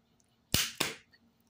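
A Bosch starter solenoid from an air-cooled Porsche 911, tested on a bench, gives two sharp close clicks in quick succession, with near silence around them.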